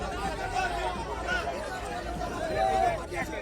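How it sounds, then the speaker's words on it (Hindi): Crowd of thousands of Hindu protesters blocking a road in Falta, West Bengal, made up of children, elderly people, women and men; a dense, steady hubbub of many voices carries on without a break. "फलता में हजारों हिंदुओं की भीड़ ने चक्का जाम कर दिया।"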